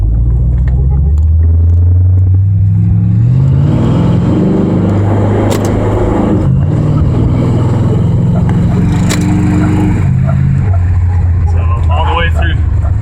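Ford 302 V8 in a Mazda RX-7 with a C4 automatic accelerating through three gears, deep loud engine rumble rising and dropping at each shift, with a voice talking over it.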